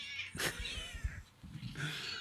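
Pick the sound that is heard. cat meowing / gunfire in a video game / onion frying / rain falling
cat meowing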